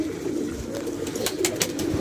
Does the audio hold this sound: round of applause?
no